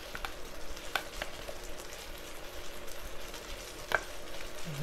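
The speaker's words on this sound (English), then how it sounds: "now we're just going to whisk this together" A whisk stirs apple butter, cornstarch and milk together in a bowl in a farm kitchen: a soft continuous scraping swish with a few sharper clinks against the bowl, close and quiet, with no talking.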